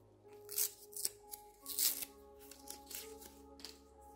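Plastic-coated cards from the Final Girl board game are handled and shuffled, giving a few quick flicking, riffling bursts with soft rustles between them, close and moderately loud against a faint background tone, with no one talking.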